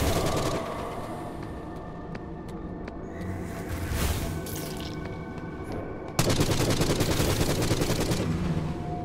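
Rapid gunfire in the dark shooter game Forgive Me Father, dense bursts of shots rattling throughout, growing sharply louder and more continuous toward the end.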